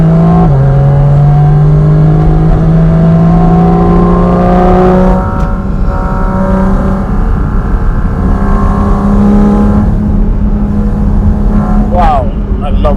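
A Porsche Cayman GT4 RS screams on a mountain pass, its engine note holding loud and steady, then dropping and climbing again through gear changes in a sustained, high-revving howl.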